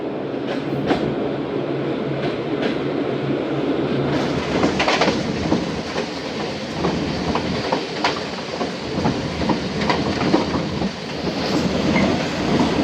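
A Karachi Express passenger train runs steadily on the rails in Pakistan, with a constant loud rumble and rhythmic clacks and thumps from the wheels throughout.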